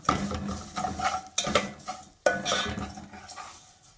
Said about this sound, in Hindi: सेवइयाँ शामिल कर दी हैं, सेवइयों को भूना जाएगा।